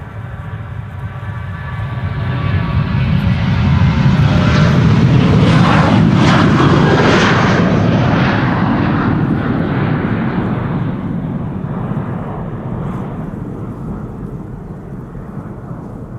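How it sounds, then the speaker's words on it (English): KLM Boeing 737-800 jet airliner departing Amsterdam Schiphol in a crosswind, a loud deep engine roar swelling as it passes close, peaking midway, then fading slowly into a distant rumble. "737-800 to London Heathrow, KLM flight 1005."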